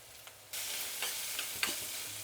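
Chopped onion, curry leaves and garlic start sizzling in a hot pan, a soft, steady frying hiss with a few faint stirring scrapes.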